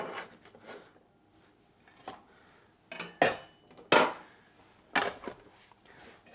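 A knife chopping vegetables for soup on a board, a handful of irregular sharp thuds and clacks spaced out over a few seconds, close and fairly quiet between strikes.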